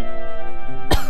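A single short cough from a character in the Harvest Moon farming video game, a sharp burst near the end of the clip over a steady bed of game music.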